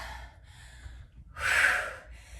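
A single deep, forceful inhale during a full-body interval workout with weights, rising loud and breathy around the middle of the clip between quieter breaths.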